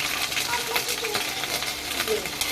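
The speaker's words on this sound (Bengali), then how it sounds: "হালকা করে ভেজে নিচ্ছি দুই সেকেন্ড মতো নাড়াচাড়া করে নিলাম" Spices frying and being stirred in a pan for Bengali muri ghonto, a steady close sizzle with scraping stir strokes throughout, no talking.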